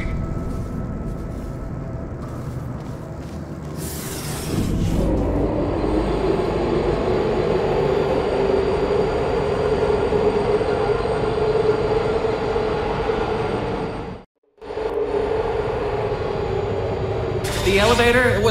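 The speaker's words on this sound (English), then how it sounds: "Elevator, it wasn't going to my testing track, so I've rerouted the lift." An elevator lift in the video game Portal Stories: Mel moves with a steady mechanical rumble and hum, briefly dropping out near the end before resuming, with a sharper clank at the start and finish.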